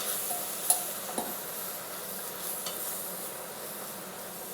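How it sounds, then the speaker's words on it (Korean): Beef and seaweed stir-fried in a pot with a little added water, a soft steady sizzle with a couple of faint metallic clinks from the spoon early on. "자글자글 볶아줍니다"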